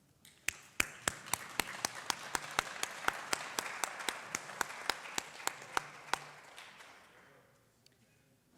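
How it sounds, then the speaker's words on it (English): Applause fills the room at an honors night ceremony at East Georgia State College. One nearby pair of hands claps sharply in an even beat over quieter crowd clapping that fades out. "And while we're all clapping"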